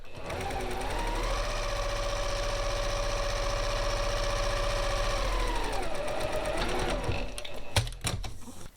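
A sewing machine runs steadily while stitching pieces of a wonky log cabin quilt block, a loud close mechanical whir that holds for several seconds, then slows and stops with a few clicks.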